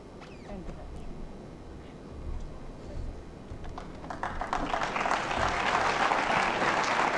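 Applause at a national youth science exhibition award ceremony swells from a quieter, murmuring hall into fuller, louder clapping toward the end, with some background room noise and voices underneath.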